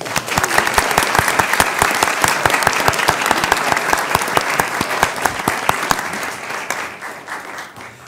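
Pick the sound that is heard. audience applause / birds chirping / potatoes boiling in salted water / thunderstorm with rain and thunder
audience applause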